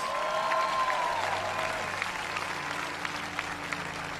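Audience applause at the 2017 Los Angeles mayoral inauguration, a broad crowd of clapping that rolls on steadily with some scattered cheers mixed in.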